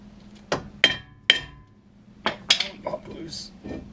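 Hammer knocking a brake rotor loose on a Nissan Altima: several sharp, close metallic strikes with ringing clanks, spaced irregularly, over a low background hum.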